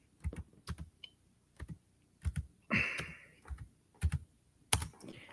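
Computer keyboard typing in a quiet room, heard as short separate bursts of keystrokes with gaps between them, close and fairly clear, with no talking.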